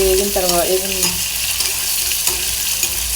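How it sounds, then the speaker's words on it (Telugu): Chopped onion and tempering spices fry in a hot pan, with a steady close sizzle and some brief scraping, stirring sounds near the start. "ఒక 2 నిమిషాలు ఇలా ఉల్లిపాయలని ఇవన్నీ పోపు దినుసుల్ని వేయించుకోవాలి."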